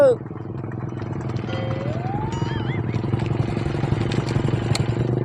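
Two motorcycles approach along a village road, their steady engine drone running throughout beneath loud shouting and talk.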